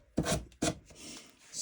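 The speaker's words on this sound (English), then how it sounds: "I'm just using like a 320 grit" Two quick, close strokes of 320 grit sandpaper rub along the edge of a thrifted piece, followed by lighter scraping.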